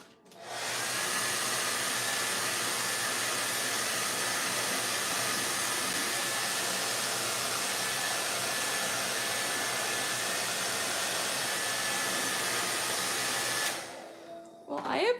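A hair dryer blows steadily on wet paint for about thirteen seconds, a loud, even, close whoosh that cuts off abruptly near the end, leaving brief small handling noises.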